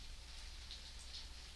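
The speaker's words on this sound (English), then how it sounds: "You may hear some rain and hiss," Rain and steady hiss picked up faintly in the background of a microphone recording, a soft continuous wash with light patter and no voice.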